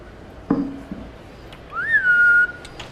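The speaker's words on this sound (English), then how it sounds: "We actually have her trained where I whistle" A person whistles to call a lizard for feeding: a short knock is followed by a single rising-then-falling whistle, close and clear, lasting under a second amid faint room noise.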